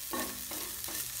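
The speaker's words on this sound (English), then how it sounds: "So I'm going to like cook it a bit in oil." Food cooking in oil in a pan, a soft steady sizzle with a couple of brief stirring scrapes, fairly quiet and close.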